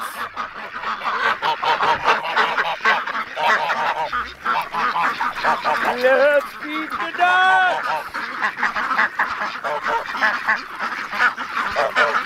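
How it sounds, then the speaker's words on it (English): A flock of hungry farm ducks quacks loudly and almost continuously, close by, while a person talks briefly over the racket. "seems we have some hungry ducks"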